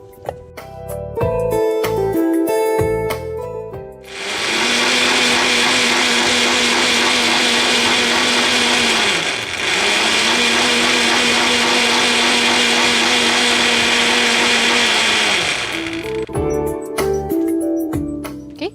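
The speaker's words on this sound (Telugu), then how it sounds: "మిక్సీ పట్టేసుకుందాం" A mixer grinder whirs loudly as it blends bulgur wheat dosa batter, running in two long bursts with a short dip between, preceded and followed by clinks and handling noises.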